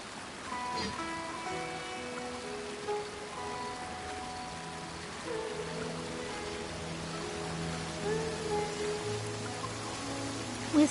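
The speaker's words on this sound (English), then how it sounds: "With rain this heavy, not only are the stars clouded, so too is my scryglass hazy." Heavy rain falls as a soft, even hiss in the Genshin Impact video game, beneath sustained melodic game music that carries through the whole stretch.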